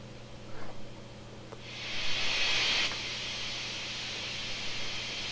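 Steam blowdown hiss from the CPRR 4-6-0 Buffalo locomotive in Train Simulator Classic, a soft rushing burst that swells for about a second and then settles into a faint steady hiss, fairly quiet.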